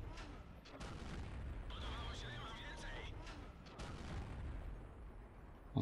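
Tank cannon shots boom in a World of Tanks battle, a few heavy blasts rumbling among layered game noise while someone talks over the action.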